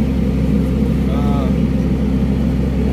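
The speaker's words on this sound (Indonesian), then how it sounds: "RPM-nya high, tapi kita tunggu beberapa detik RPM tidak mau turun ya" XCMG XE135B excavator diesel engine held at high RPM and failing to drop back to idle, a loud steady drone filling the clip, with a person speaking briefly over it.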